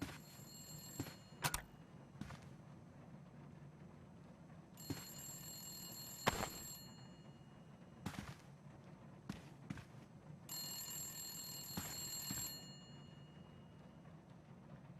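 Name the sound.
telephone ringing in Saw 2: Flesh & Blood video game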